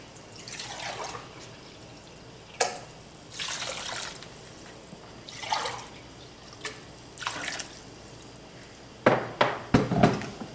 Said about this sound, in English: Three cups of vegetable broth and 3 of water.